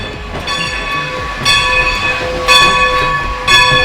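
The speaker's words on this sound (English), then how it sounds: "this new train is coming up for the next ride" A steam train on the Strasburg Railroad in Pennsylvania rolls along the track with a steady mechanical drone and sustained tones, punctuated by rhythmic bursts roughly once a second. Close and fairly loud.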